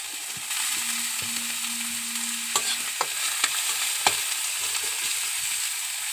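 Onions frying in hot oil sizzle steadily throughout, with several sharp clinks of a spatula stirring the pan and a short faint tonal hum early on.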